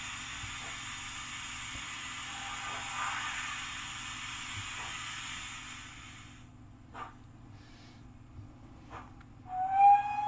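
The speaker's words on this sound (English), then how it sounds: "I'm just going to reverse it back so I can run some trains around." Model trains run around a model railway layout, a steady rolling hum with periodic clicks over rail joints for about six seconds, then quieter with scattered clatters and a brief squeal near the end.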